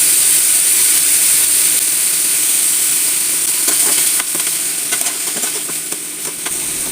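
Chutney ingredients sauté in a hot pan, a loud continuous sizzle with steam hiss, joined partway through by scraping stirring strokes that grow more frequent toward the end.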